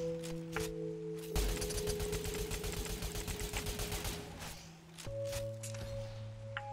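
Rapid automatic weapon fire rattles in a Destiny Crucible multiplayer match, a dense run of evenly spaced shots over droning game music, then trailing off to scattered faint clicks.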